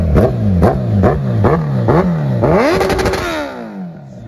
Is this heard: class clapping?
no